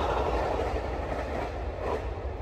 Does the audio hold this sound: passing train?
yes